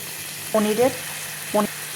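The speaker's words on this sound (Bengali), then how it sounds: "ভালো করে নাড়িয়ে চাড়িয়ে ভালো করে আরও সুন্দর করে কষিয়ে নেব" Masala for a paneer curry sizzles steadily in a pan while being stirred, with two short voiced bursts cutting over the frying hiss.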